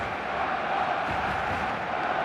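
A large stadium crowd in the eFootball video game roars in a steady, dense wash of cheering on match day in the Spanish league, loud and continuous with no break.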